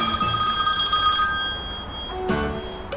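A telephone rings in a rented apartment, its bell-like tone repeating steadily and loud throughout, with no talk over it.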